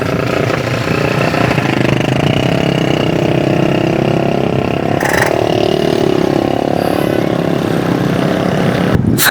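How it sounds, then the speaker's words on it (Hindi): Many motorcycle engines drone and rev continuously nearby on Jahangir Road, a loud dense stream of traffic rolling past without pause. "मोटरसाइकिल वालों का सुनामी आ गया।"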